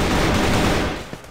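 Sustained rapid gunfire from a CrossFire clan match, dense and loud for about a second before tapering off into a brief lone shot.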